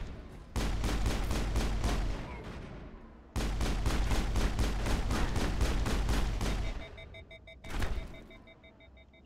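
Rapid bursts of automatic gunfire from combat in the Mass Effect video game, loud and sustained in two long volleys with a brief pause between, followed by a sharp blast and trailing electronic tones.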